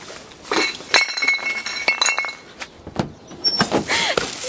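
Glass bottles clink and clatter as they drop into a green glass recycling container, several sharp knocks and bright rattles in irregular bursts close by.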